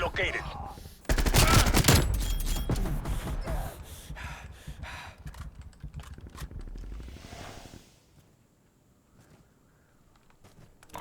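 Dense bursts of rapid gunfire and explosions from an online shooter video game streamed through GeForce Now, loud for the first several seconds and then fading to quieter shots, with players talking over the action.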